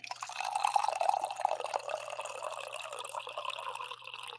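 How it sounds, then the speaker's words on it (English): Coffee pours into a cup in a continuous splashing, trickling stream that rises briefly and then settles, heard up close with no talk. "I think you guys have earned one more coffee pour here"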